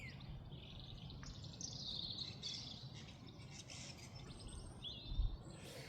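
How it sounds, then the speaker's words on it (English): Birds singing in a spring garden, several chirps and warbling calls scattered over a low outdoor rumble, moderately close and overlapping, with a brief thump near the end and no talking. "Birds are going crazy."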